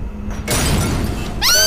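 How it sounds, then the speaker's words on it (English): An exploding ketchup bottle in the video game Penumbra: Requiem goes off in one loud, sudden burst that breaks into a sharp shattering crash, with a bright ringing tail trailing after it. "Exploding ketchup on you."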